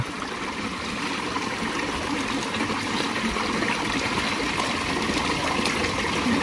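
Cold natural spring water from the hills flows in a steady, close burble and splash, continuous for several seconds with no talking.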